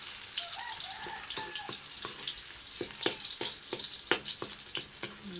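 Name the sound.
garlic and red onion sautéing in pan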